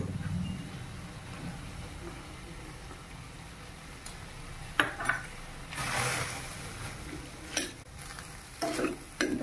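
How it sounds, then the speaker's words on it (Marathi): Cooked dal with jaggery is mashed in a wok for Maharashtrian puran poli, with a low steady simmer under repeated scraping and pressing strokes, several louder clattering bursts of utensil against metal near the end. "कढईतच आपण याला असे मॅश करू"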